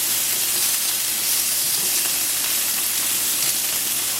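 Beef kefta kabobs sizzle on a grill pan, a loud, continuous, even hiss of frying that fills the whole stretch with no voices over it.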